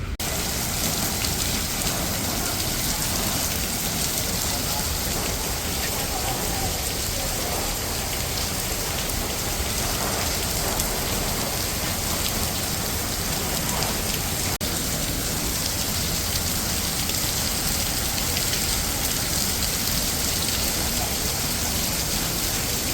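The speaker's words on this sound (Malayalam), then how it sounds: "വീണ്ടും മഴ പെയ്യുന്നു" Steady, dense rainfall patters on surfaces without a break, a constant hiss filling the whole stretch.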